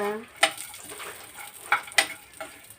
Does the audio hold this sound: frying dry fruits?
yes